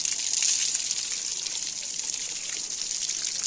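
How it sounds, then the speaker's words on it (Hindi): Garden plants are watered with a fine spray, giving a steady, soft hiss of falling droplets that runs the whole time, with no voices. "इनको देखिए पानी का फुहारा हम दे रहे हैं ताकि पौधे अच्छे से ग्रो हो जाएं।"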